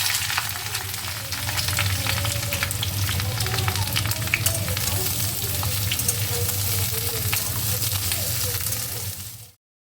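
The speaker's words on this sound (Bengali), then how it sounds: "একদম মোছা মোছা করে তেলে পরোটা ভাজলাম তাতানের জন্য" A paratha fries in a thin film of oil, producing a loud, continuous close-up sizzle with faint crackles over a low steady hum, cutting off abruptly near the end.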